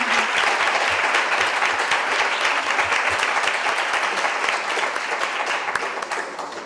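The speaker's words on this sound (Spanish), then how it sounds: "con un aplauso para ellas" Steady audience applause in a hall at a round-table event on reading comprehension, dense even clapping throughout that eases slightly near the end.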